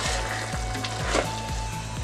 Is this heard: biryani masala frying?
yes